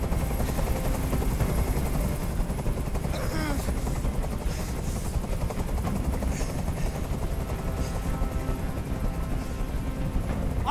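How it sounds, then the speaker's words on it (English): Helicopter hovering overhead in the video game Detroit: Become Human, a loud continuous rotor thrum filling the scene while voices speak over it. "I can't stand that noise anymore. Tell that helicopter to get out of here."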